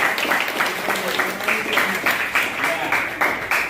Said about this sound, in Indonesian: Kasih tepuk tangannya ke yang pertama